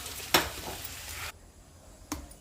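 Onion and tomato fry in oil for a paneer bhaji, a gentle close sizzle with a sharp clatter near the start and another short knock later as it quietens.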